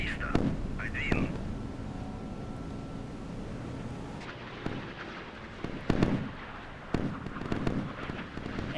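Surface-to-air missiles launching from warships in the naval combat game Sea Power, sharp whooshing blasts and rumbling booms over a steady background roar, with a voice speaking in between.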